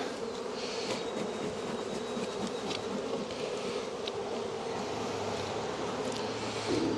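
Honey bees buzz excitedly around an open hive being smoked during spring preparation for splits and swarm prevention, a dense, continuous droning hum close by with individual bees whining past.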